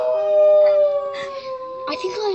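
Singing dogs howl in long, wavering, sliding tones, several voices overlapping in a loud, close chorus with brief yips.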